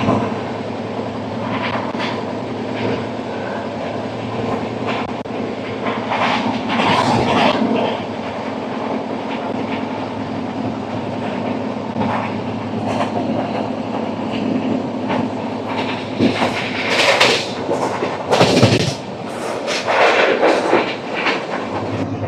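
Narayanadri Superfast Express 12734, running from Lingampalli to Tirupati on an overnight trip, rolls along the rails with a continuous rumble and rhythmic clickety-clack. Louder bursts and a few sharper metallic surges rise partway through. No talk is heard.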